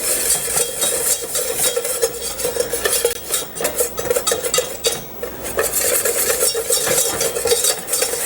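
A cooking paste stirred in a pan as it browns from white to beige, with steady scraping and clinking of a utensil against the metal over a faint sizzle and no speech.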